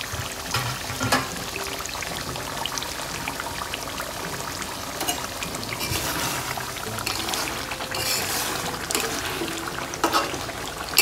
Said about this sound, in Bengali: একটা টকবক করে ফুটছে।